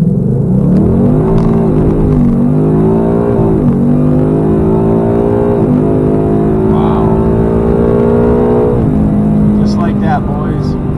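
A car with a 10R80 transmission accelerates at full throttle. A loud, close engine drone climbs in pitch, and several upshifts briefly drop the revs before it climbs again.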